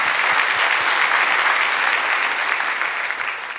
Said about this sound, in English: Give your applause to Jesus Christ, who is preeminent in all things.